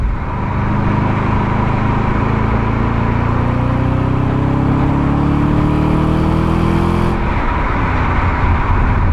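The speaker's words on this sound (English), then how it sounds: "just tickling the throttle up to 60 miles an hour there, and yes, it feels tremendously torquey" A B7 Audi RS4 accelerates steadily up to 60 mph, its engine note rising smoothly and loudly over heavy road and cabin rumble, then easing off sharply as the throttle is released.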